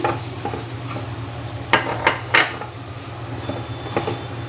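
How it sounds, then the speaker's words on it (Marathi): A thick mango and coconut barfi mixture is stirred in a pan over a low flame, with a steady low hum and a few sharp scraping strokes of the spoon against the pan, close and moderately loud, with no talking. "हे सगळं मिश्रण आता आपल्याला मंद गॅसवर परतवायचं आहे"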